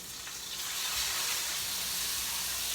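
A steak sears in a hot pan, a dense steady sizzle and spatter hissing close up, continuous and loud, with no voices.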